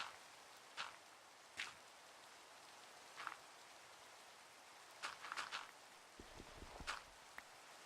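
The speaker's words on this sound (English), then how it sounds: "The fact that it's raining now kind of reminds me." Steady, soft rain hiss falls in the Minecraft video game, with a few light footstep-like taps and crackles over the continuous patter.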